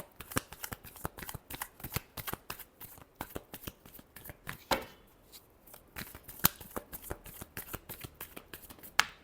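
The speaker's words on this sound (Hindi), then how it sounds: "Reading last shuffle." Tarot cards shuffled in a rapid run of crisp, close riffling flicks for about nine seconds, quiet and steady with a brief pause midway, and no voices.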